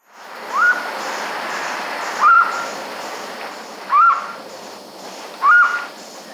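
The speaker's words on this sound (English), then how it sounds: "Vocalizations of Whitehead's trogon" A Whitehead's trogon gives four short, clear hooting calls spaced evenly about every one and a half seconds, each a brief rising note over steady rushing background noise like a stream or wind.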